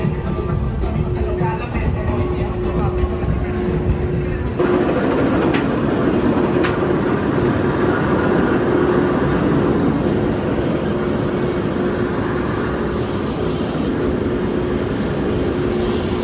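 Onboard ride on the Acrobat flying roller coaster at Nagashima Spa Land, Japan, with a steady loud roar of wheels and rushing wind throughout, the tone shifting a few seconds in as the train picks up speed.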